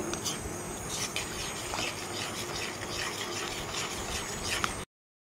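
Milk thickened with cornflour is stirred steadily in a pan, giving a continuous soft scraping and rubbing texture at moderate level, close by and without talk, before cutting off abruptly.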